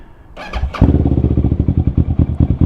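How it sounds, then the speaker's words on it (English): A Kawasaki Ninja motorcycle with a loud aftermarket exhaust fires up on a test ride, settling into a close, rapid, lumpy pulsing idle with a brief squeal at the start. "Hopefully you can hear me over this exhaust. She's pretty loud."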